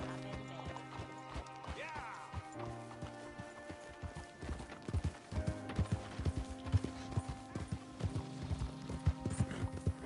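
Horse hooves clip-clop in the Red Dead Redemption 2 video game, a steady rhythmic trot with an occasional whinny under a musical score, growing louder in the second half; no clear speech over the hoofbeats.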